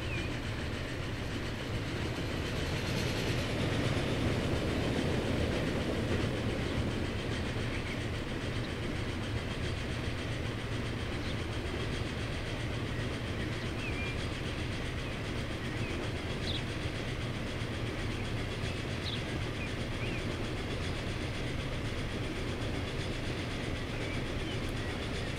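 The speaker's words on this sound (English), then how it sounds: "More passenger trains coming in." A video game passenger train rumbles steadily past with a continuous low roar and faint rail clatter, the noise holding even throughout.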